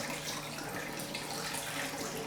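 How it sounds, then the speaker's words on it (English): Water pours out of a film developing tank in a continuous, fairly quiet splashing stream, close by and without talk. "We just pour the water out."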